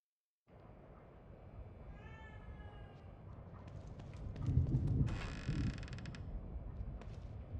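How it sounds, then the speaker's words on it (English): In the horror video game The Evil Within 2, a cat gives a drawn-out meow over a low ambient drone, followed by creaking, rattling mechanical noises that swell midway. "Cat. I don't ever remember owning a cat."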